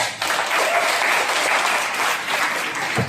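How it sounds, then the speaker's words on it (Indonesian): Audience applause for two respondents at a student dialogue event, a dense, steady wash of clapping from a sizable crowd lasting throughout, fairly loud and continuous with no talk over it. "tepuk tangan lagi teman-teman untuk kedua penanggap kita pada hari ini"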